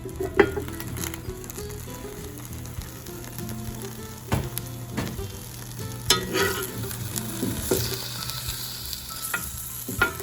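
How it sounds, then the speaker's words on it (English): Vegetables stir-frying in shimmering hot oil for a big green stir fry, a steady close sizzle with crackles and the scrape and clatter of stirring throughout. "then you're going to add your vegetables to the oil"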